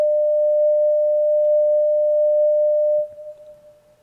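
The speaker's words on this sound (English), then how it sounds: "Now you can hear it's got a bit more of an echo to it," A Belgrade synthesizer run through an Erica Synths Black Hole DSP granular delay holds one steady sine-like tone for three seconds, then drops and trails off into a faint pulsing echo tail.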